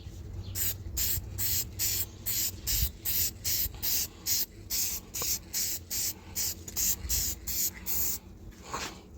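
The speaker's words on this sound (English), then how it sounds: "I clean it properly and I'm gonna add the clear coat" Clear coat is sprayed onto a car headlight during restoration in about twenty short, evenly spaced hissing bursts, close and steady in rhythm, with no talk.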